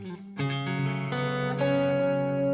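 Clean electric guitar notes from a Gibson Les Paul ring out one after another, building into a clear, glassy sustained chord, close and moderately loud.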